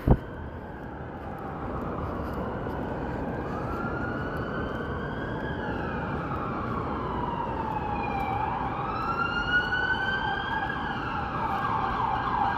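Emergency vehicle sirens wail and rise and fall continuously on a busy Chicago street at night, fairly close and loud, over steady traffic rumble, with overlapping siren tones near the end.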